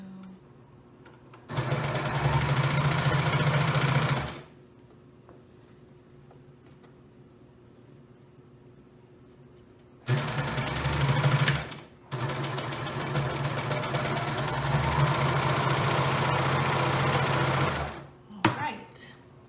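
A serger sewing on a neckline whirs in two long, steady runs separated by a quiet pause, close and fairly loud, with brief handling noises at the end.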